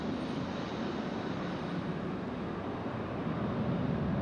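An airliner roars steadily overhead at London Heathrow Airport, a broad, loud, continuous engine rumble with a faint whine, no voices over it.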